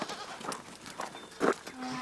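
Sheep and goats on a farm bleat in short, scattered calls, several animals close by and moderately loud, one call louder near the end, over a faint background.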